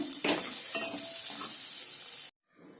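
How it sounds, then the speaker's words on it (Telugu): Paneer cubes frying in a pan for a dhaba-style cashew paneer curry: a steady close sizzle with a few scraping stirs, stopping abruptly near the end, with no talk. "జాగ్రత్తగా వేయించుకోండి జస్ట్ వేగాలండి అంతే పన్నీర్ వేగిందండి"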